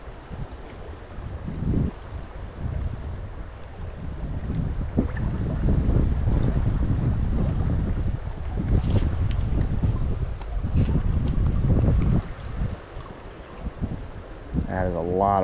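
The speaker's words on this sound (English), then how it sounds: "That is a lot of wind," Strong wind gusts buffet the microphone beside a trout stream on Penns Creek in central Pennsylvania, a loud, steady roar of blustery rumble that swells and eases throughout, with a brief voice near the end.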